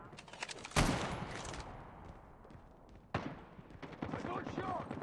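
Call of Duty multiplayer battle gunfire: two sharp loud shots stand out, one early and one mid-clip, over a busy game soundscape with voices chattering throughout.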